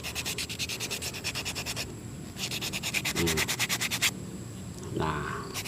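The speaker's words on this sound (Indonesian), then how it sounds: "amplas pinggir-pinggirnya tujuannya agar dipegang nggak luka" Sandpaper rubbed along the edges of a bamboo piece gives close, rhythmic rasping strokes in quick regular bursts, with short pauses between sets.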